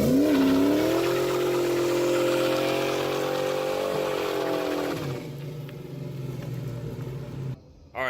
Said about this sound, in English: Listen to the noise of the delaminated tire